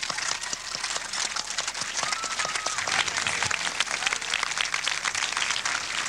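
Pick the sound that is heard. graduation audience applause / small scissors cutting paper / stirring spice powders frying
graduation audience applause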